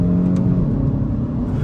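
A 2024 Kia Forte GT2's turbocharged four-cylinder engine pulls hard under acceleration, a brief, loud, continuous growl heard from inside the car.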